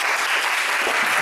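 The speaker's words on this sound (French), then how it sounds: "Est-ce que vous pouvez applaudir?" A church congregation bursts into dense, loud applause, a brief continuous wash of many hands clapping together without speech.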